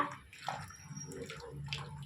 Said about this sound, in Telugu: బియ్యం వేసేసుకున్నానండి ఒక్కసారి కలిపేసుకుందాం ఇట్లా